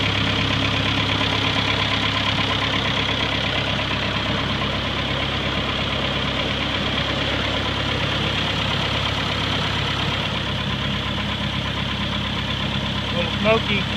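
A car engine idles after a cold start on a motor with a leaking block. The idle runs loud and steady with a constant rumble and faint knocking texture for the whole stretch, close by.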